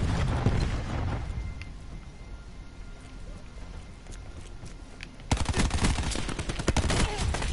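Cluster grenade in Black Ops 4 going off as a rapid string of sharp crackling bursts after a stretch of scattered gunfire, loud and close.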